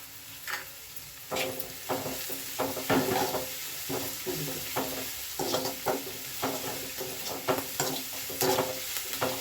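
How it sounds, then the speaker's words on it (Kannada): Onions with curry leaves and salt sizzle in a pan while a spoon stirs them in repeated scraping strokes over a steady frying hiss, close up and without speech. "ಈರುಳ್ಳಿ ಚೆನ್ನಾಗಿ ಫ್ರೈ ಆಗುತ್ತೆ."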